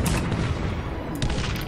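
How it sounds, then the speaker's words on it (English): Cannon fire from a Cossacks 3 real-time strategy battle, heard as a dense, continuous rumble of booming artillery shots that overlap through the whole stretch, loud and fairly close, with no talking. "Colourfit is shooting him with the cannons."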